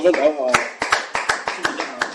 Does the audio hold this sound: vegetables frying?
no